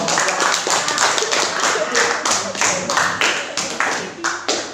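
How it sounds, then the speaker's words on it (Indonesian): A classroom audience applauds a student group, a steady stream of many overlapping claps at moderate loudness continuing throughout, with some faint voices underneath. "tepuk tangan dulu untuk kelompok 2"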